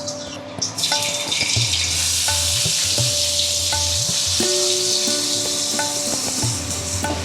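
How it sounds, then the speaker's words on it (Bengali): Chopped onion drops into hot oil for a spinach chicken curry and sizzles at medium heat, a strong steady hiss right up close with occasional stirring clinks. "এবার এই তেলের মধ্যে আমি দিয়ে দিচ্ছি এই পেঁয়াজ"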